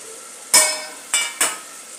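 Corn and beans go into a pan for masala rice and get stirred, giving three crisp utensil scrapes and clatters, each trailing off into a soft sizzle, close up with no talking.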